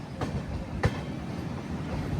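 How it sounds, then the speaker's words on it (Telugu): The Gatimaan Express runs by on the next track, a steady rail rumble with a couple of sharp clacks from the wheels passing joints, heard from aboard another train near Jhansi. "అటు సైడ్ ఒక ట్రైన్ వచ్చింది. ఏం ట్రైన్ చెప్తాను ఆగండి."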